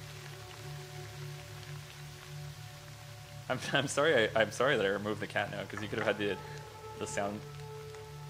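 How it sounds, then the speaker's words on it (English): Rainy riverbank ambience from a procedural frog generator game: a steady, soft rain hiss runs throughout, with people talking over it for the second half. "Rainy Riverbank. I feel like maybe that's gonna be too much rain."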